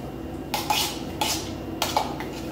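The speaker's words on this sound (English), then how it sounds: "Stir the cup, as I say." A utensil stirring a homemade Ben & Jerry's tiramisu milkshake in a cup, three scraping, clinking bursts in steady rhythm, close and fairly loud.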